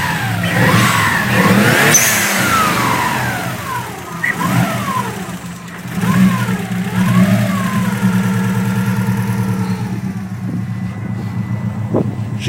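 Rebuilt Subaru STI engine in an STI body, revved in several rising and falling sweeps over a steady idle, loud and close, settling back toward idle near the end.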